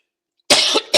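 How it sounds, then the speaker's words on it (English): A man coughs twice at close range, a loud harsh cough followed by a shorter second one after silence. "Sorry for my cough."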